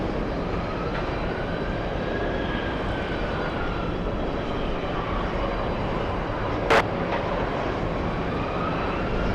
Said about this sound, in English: British Airways Speedbird 115 flying in from Heathrow